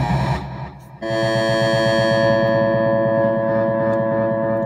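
A mono modular synth effects unit runs its echo effect. After a short break, a loud sustained tone starts, made of rapid repeating pulses that trail on steadily, with no one speaking.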